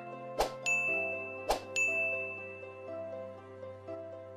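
A bright subscribe-bell notification ding sounds twice in quick succession, each strike ringing with a long, clear metallic tail over a soft sustained musical backdrop.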